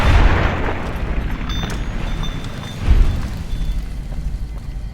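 Gunfire in Fallout: New Vegas during a fight with Powder Gangers, heard as a loud, dense, booming stretch with a stronger blast near the middle, continuous and close.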